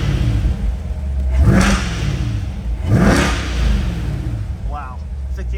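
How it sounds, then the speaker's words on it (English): A 2021 Chevrolet Corvette C8 Convertible Z51 engine revs hard twice, each burst rising and falling, loud and close, with a low idle rumble in between. "Give it a couple revs for you."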